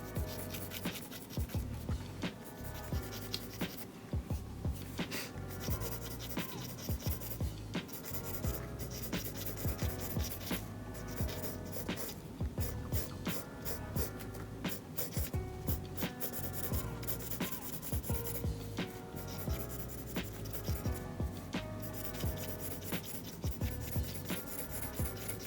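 Steady scratchy rubbing of a 0.7 mm mechanical pencil shading on paper during a sketching session, continuous dense strokes up close, faint and without any talk.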